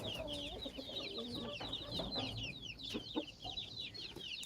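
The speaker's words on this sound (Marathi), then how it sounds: "ही एक गावरान कोंबडीची जात आहे" Desi country hens of a village free-range breed cluck and chatter continuously at close range on a farm, with many overlapping calls, scattered bird sounds and no talk.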